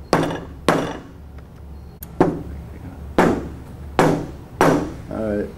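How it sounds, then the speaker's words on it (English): A soft-head hammer taps a seal housing into a check valve body in six firm, evenly spaced blows, each a dull thud with a short decay, while someone talks quietly between the strikes. "Using a soft head hammer, firmly tap the seal housing into the body."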